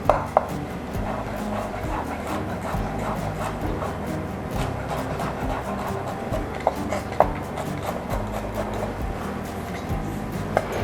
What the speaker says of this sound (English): So you want to just go ahead and get this minced down.